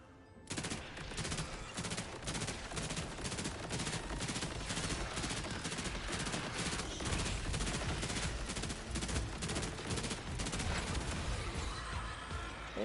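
Rapid automatic gunfire in Borderlands 4, a dense, steady stream of sharp close shots firing in a fast regular rhythm for over ten seconds without pause, loud and unbroken.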